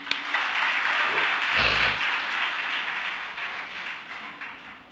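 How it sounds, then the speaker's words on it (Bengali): Audience at a technical education scholarship event claps in a broad, steady wash of applause that slowly tapers off, with a brief low thump near the start. "আপনাদের জন্য এটি করতালি"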